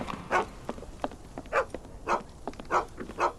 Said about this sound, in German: ich höre Hunde